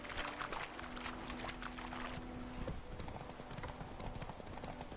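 A horse trots along in The Witcher 3, hooves clip-clopping in a quick even rhythm, with a soft low tone and game ambience beneath.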